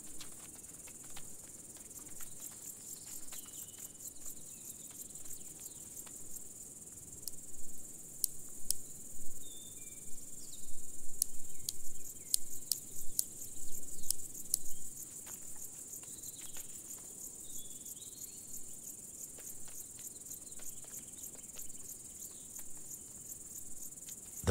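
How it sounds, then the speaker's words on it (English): Large marsh grasshoppers chirp on a wet moor, a faint, steady high buzz with a livelier burst of scraping clicks in the middle stretch and no voices. "The large marsh grasshopper pair marches across the wet ground."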